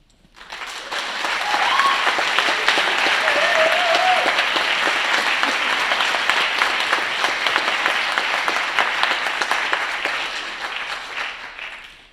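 An audience at the opening ceremony of the Reykjavík International Film Festival applauds the festival director and staff, a broad, steady wash of clapping from a large hall that swells in, holds for several seconds and then fades.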